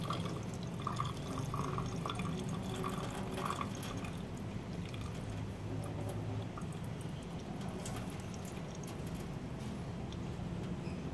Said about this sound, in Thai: เทน้ำจริง